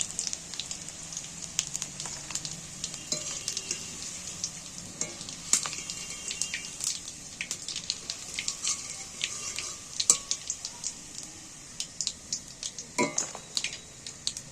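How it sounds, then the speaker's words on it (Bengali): Fish roe fries slowly in oil over a gentle flame, giving a steady, close sizzle with scattered sharp crackles and occasional utensil clinks, with no voices. "আস্তে করে জাল দিয়ে একটু সময় ধরে ভাজা হচ্ছে"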